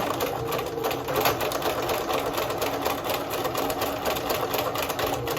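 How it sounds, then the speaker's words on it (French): Sewing machine stitching bias binding on an evening dress, a steady close whirring run of rapid stitches lasting throughout without pause. "je vais coudre ici pour bloquer les petits biais"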